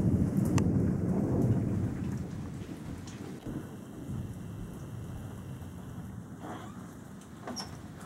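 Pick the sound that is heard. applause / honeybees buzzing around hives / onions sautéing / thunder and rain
thunder and rain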